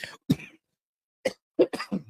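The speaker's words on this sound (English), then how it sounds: "I have this cough" A few short, sharp coughs in separate bursts, close by, with a pause between the first pair and a quicker run of coughs at the end.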